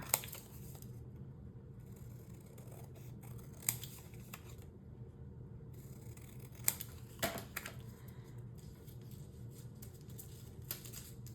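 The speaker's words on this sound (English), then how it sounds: "so I am going to trim this down right on the edges of my postage stamp" Scissors trim a paper embellishment along the edges of a postage-stamp piece, with a few crisp snips and light paper rustles spaced over a quiet background.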